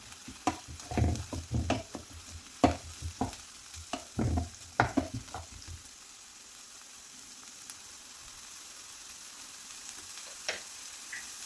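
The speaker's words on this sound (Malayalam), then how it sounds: "ഇഞ്ചി വെളുത്തുള്ളി ചതച്ചതാണ്, അതുകൂടി ഇട്ട് കൊടുക്കാം. ഒന്ന് ഇളക്കി കൊടുക്കണം." Crushed ginger and garlic fry in a pan for a stuffed chilli bajji masala, with quick clattering spoon scrapes for several seconds, then a soft steady sizzle alone.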